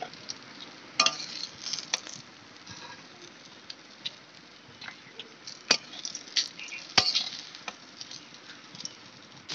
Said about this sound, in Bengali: এই তেলে আমি আলুটা ভেজে নেব